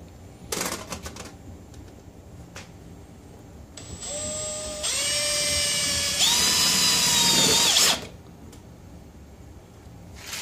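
A power drill drives self-tapping screws, with a few short clicks first, then a rising whine that steps up in pitch as the screw bites, then a sudden stop. Close and fairly loud.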